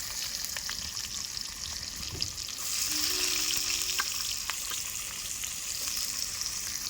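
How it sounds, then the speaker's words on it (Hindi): Onions sizzle steadily in hot oil with cumin for a dhaba-style bottle gourd curry, a dense close hiss that swells slightly midway. No talking over it. "अब हम इसमें प्याज को डाल रहे हैं।"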